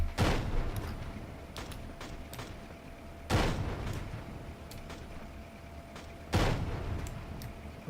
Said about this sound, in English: Explosions, what's that, mortar?